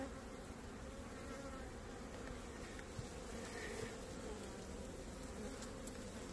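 Honeybees buzzing steadily over the brood comb of a cutout hive, a dense, continuous close-up drone of many wings at an even level.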